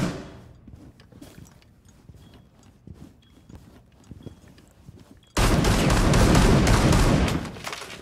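Shots are fired through a wall in a tactical shooter game: after a few seconds of quiet clicks and light steps, a loud, dense burst of rapid gunfire erupts and holds for about two seconds before cutting off.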